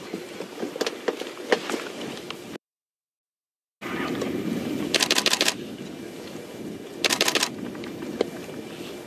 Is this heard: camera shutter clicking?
yes